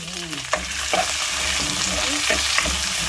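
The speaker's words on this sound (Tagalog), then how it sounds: "pwede nang ihalo si kamatis at saka si sili" Tomato and chili sautéing in a hot pan, a close steady sizzle broken by a few quick scrapes and clinks of stirring, with no talking.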